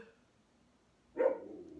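A single dog bark sounds at close range after quiet room tone, a short sharp bark with a little trailing resonance.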